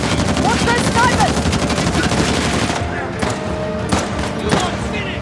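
Sustained sniper and automatic gunfire in the video game Uncharted: The Lost Legacy, dense rapid shots for the first three seconds, then thinner scattered cracks and bursts over a lingering combat din, with voices shouting beneath.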